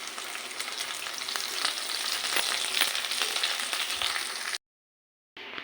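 Curry leaves hitting hot oil in a kadai with onion and green chilli, a loud, dense crackling sizzle that holds steady and close, then cuts to silence before briefly returning.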